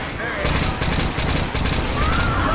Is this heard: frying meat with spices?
no